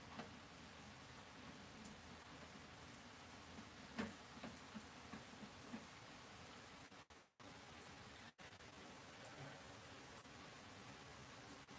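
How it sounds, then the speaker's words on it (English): Steady rain falls outside a garage, a constant broadband hiss of drops hitting surfaces, with a small clack near the middle and two brief dropouts in the second half. "Yes, it's raining. Can you hear it?"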